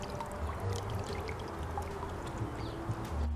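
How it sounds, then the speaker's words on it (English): Lemon juice squeezed into a bowl of water in a kitchen while preparing cardoon, heard as a soft, continuous trickle and dribble of liquid, faint and close, with no voices. "I'm just going to squeeze out the lemon juice into the water here."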